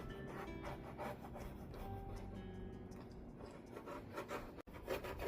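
A rotary cutter is drawn through a placemat on a cutting mat beside a long quilting ruler, producing a close, continuous rough rasping and rubbing with a brief break near the end.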